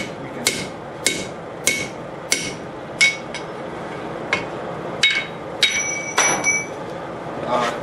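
Sharp, ringing hammer blows strike a chisel-made drift through hot steel set over an anvil's hardy hole, a dozen evenly spaced metallic hits close up in a quiet forge.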